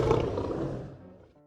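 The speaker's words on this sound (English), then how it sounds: "A fierce lion is very strong, kind of scary, and can give a loud, powerful roar." A lion gives one loud, deep, powerful roar that swells and then fades away over about a second and a half, with no talk over it.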